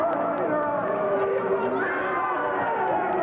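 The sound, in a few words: wrestling arena crowd cheering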